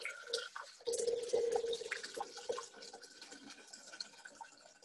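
Water, about 1,500 grams, is poured into a Thermomix TM6 bowl, a soft continuous trickling and splashing heard close and fairly quiet, easing off toward the end.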